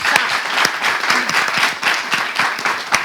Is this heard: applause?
yes